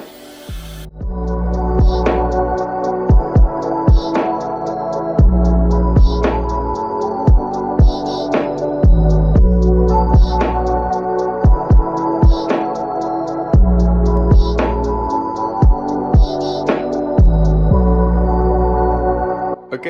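A 3D printer runs a lantern print, its stepper motors buzzing in steady pulses with repeated sharp clicks and short tonal bursts, loud and continuous with no talking.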